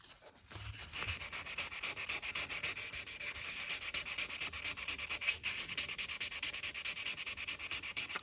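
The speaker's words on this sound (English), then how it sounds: "I usually go in with like 800 grit sandpaper. It's just to sand off the whole body of it" Steady, close rhythmic rasping of 800 grit sandpaper rubbed over a small toy car body, repeated back-and-forth strokes running continuously with no talk.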